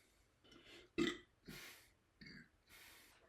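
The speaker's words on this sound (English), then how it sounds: "Burp." One short, loud, throaty burp stands out near the middle, framed by quieter breathy mouth noises and soft rustling in an otherwise quiet setting.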